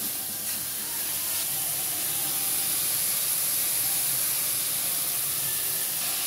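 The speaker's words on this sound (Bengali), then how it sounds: "এবার আমি সবজিগুলো অ্যাড করে দিচ্ছি। এটা নেড়ে চেড়ে সুন্দর ভুনা ভুনা করে নেব।" Vegetables being stir-fried into a bhuna in a pan give off a steady, hissing sizzle like spray or steam, close and fairly even throughout, with no talking.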